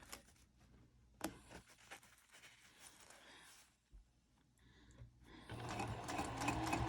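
Sewing machine stitching wristlet clutch pieces in short runs, a faint buzzing whir that stops and restarts, then swells to a steadier, louder run near the end.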